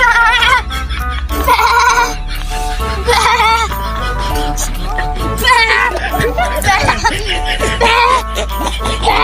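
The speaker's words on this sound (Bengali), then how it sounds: "বন্ধু ছাগল আছে বন্ধু" A goat bleats repeatedly in a rural village setting, with wavering cries close by, while men chat and laugh over it throughout.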